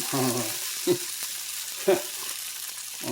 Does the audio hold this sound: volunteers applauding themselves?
no